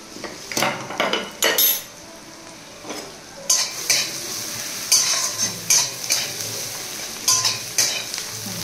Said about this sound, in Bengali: যখন পেঁয়াজটা ভাজা হচ্ছে